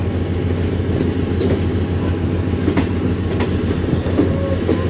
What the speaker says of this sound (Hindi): आहिस्ता आहिस्ता मेन लाइन से लूप लाइन पर होते हुए